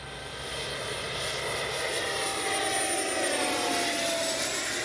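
A Freewing 70mm F9F Panther radio-controlled jet makes a full-speed pass down a runway, its high-pitched ducted-fan whine swelling steadily as it approaches, with no voices over it.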